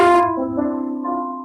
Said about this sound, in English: Mid will sound like this.